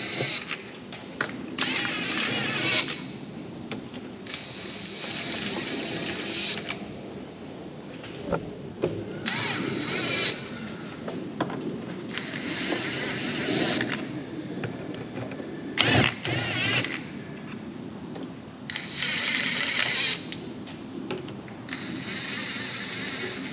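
Pneumatic impact gun running down transmission pan bolts on a Lexus 8-speed automatic, repeated short bursts of whirring rattle separated by pauses, fairly loud and close with shop background noise.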